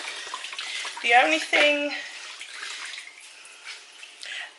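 Tap water runs steadily close by while a face mask is rinsed off, with a few brief splashes and someone speaking briefly over the flow.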